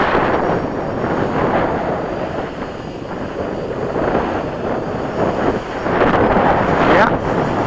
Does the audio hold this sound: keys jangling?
no